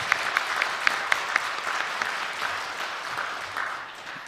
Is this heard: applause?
yes